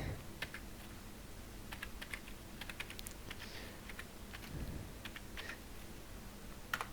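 Faint computer keyboard typing, with scattered light keystrokes and short clicking runs over a soft background hum.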